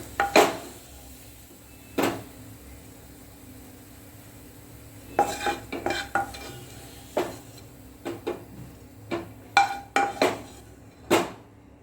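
Ghee-fried banana for aval payasam being moved into a metal vessel, with scattered metallic clinks and clatters of pots and utensils, some close and sharp, spread through the clip with no talk.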